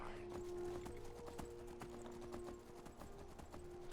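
Hooves clip-clop in a quick, steady rhythm from a horse in the video game Skyrim, close and clear, over a sustained tonal background hum.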